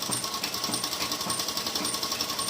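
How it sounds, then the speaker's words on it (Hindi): A sewing machine runs steadily, stitching the lining of an organza suit, producing a rapid, even mechanical chatter that stays close and continuous throughout. "तो इस तरह से लाइनिंग पे हम स्टिच लगा लेंगे।"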